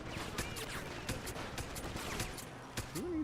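Gunfire in Deus Ex: Human Revolution, a quick run of sharp shots in irregular bursts over steady background game sound, ending with a rising electronic tone.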